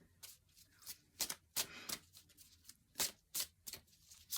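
Angel oracle cards shuffled and drawn by hand, a close, quiet run of soft riffling swishes and crisp slaps in uneven bursts, with no voices.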